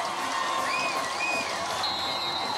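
High school football crowd at a Daphne vs. Saraland game, the Saraland student section cheering in a steady, dense roar of distant voices with a few whistles rising over it, unbroken throughout.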